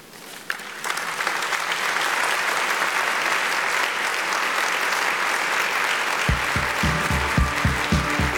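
A gala audience at a J Street event breaks into loud, sustained applause, a dense, steady wash of many hands clapping close by, with a low murmur or tone rising near the end.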